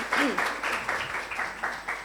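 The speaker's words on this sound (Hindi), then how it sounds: "आदित्य को ताली बजा के आप स्वागत करते हैं" A concert hall audience claps to welcome a tabla accompanist, the applause sounding thin and moderately loud. A voice continues talking over it throughout.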